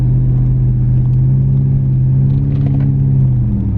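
A Ram truck with an 8-speed transmission swap and a 4,000 stall converter gives a deep, steady engine rumble that holds loud and close as it downshifts, with a faint rattle partway through and no voices.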